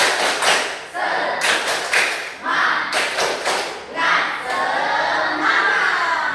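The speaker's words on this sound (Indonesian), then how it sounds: "kita tepuk semangat satu kali lagi" Junior high school students in a classroom perform a rhythmic group chant-clap, sharp bursts of unison claps in a patterned beat with voices chanting along between the strikes.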